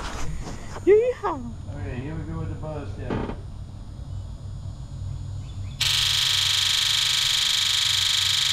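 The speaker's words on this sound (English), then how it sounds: "we're gonna just verify that with a buzz test" Someone talks briefly, then a steady electric buzzing starts and holds from fuel injectors being buzz-tested on a 7.3 Power Stroke diesel engine.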